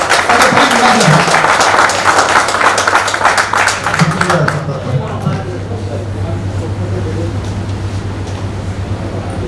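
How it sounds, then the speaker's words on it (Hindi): Audience applause at a success celebration event, loud dense clapping from a large crowd over a hum of amplified sound, tapering off about halfway through as a voice begins speaking over the room. "तो प्लीज एक बार जोरदार तालियां दें"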